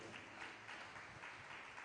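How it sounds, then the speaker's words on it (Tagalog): A church congregation at a JMCIM preaching service claps together, a faint, continuous wash of applause heard from a distance with no clear voices. "Lahat po'y pumalakpak ng malakas sa ating mahal na Panginoon."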